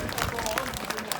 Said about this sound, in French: On peut applaudir chez David.